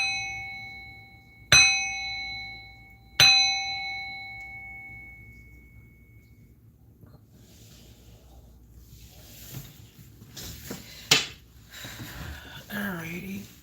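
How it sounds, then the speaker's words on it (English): A bell struck twice to clear negative energy, each a bright ringing ding that lingers and decays, followed by rustling handling noise and a person talking. "I don't know if I want to ring this bell"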